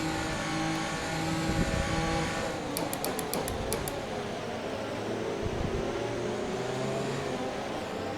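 In the F1 2020 video game, a race car engine drones steadily during a formation lap, its pitch rising and falling gently under a constant fan-like whoosh, with a brief burst of high clicks partway through.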